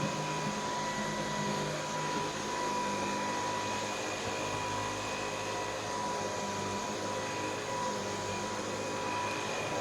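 A stick vacuum cleaner runs continuously, its motor giving a steady, even whine with a hissing airflow that stays constant from start to finish, with no talk.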